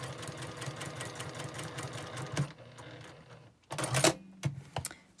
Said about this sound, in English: I'm not quite sewing on this line because I see it got a little crooked.